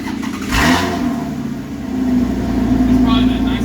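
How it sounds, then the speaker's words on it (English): A Toyota MR2 with a newly installed V6 engine and exhaust cranks and catches on a cold start, then runs with a rough, rising exhaust rumble and revs, with people talking over it. "V6 is installed, and the exhaust is all hooked up. So let's give it a cold start"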